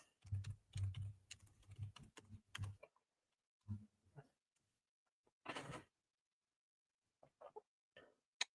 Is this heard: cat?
no